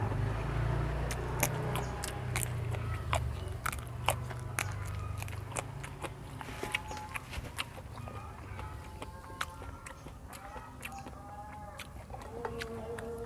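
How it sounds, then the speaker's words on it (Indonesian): Crisp, close crunching as crunchy raw takokak is bitten and chewed, with irregular sharp snaps and wet mouth sounds repeating steadily over a low background hum. "Takokak renyah."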